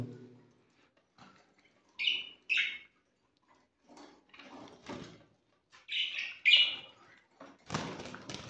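Pet birds in a cage chirp in short bright bursts, two quick pairs of calls separated by quiet rustling and light knocks, ending with a louder shuffling noise.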